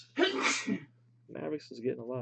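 A single sharp sneeze close to the microphone, followed by someone speaking.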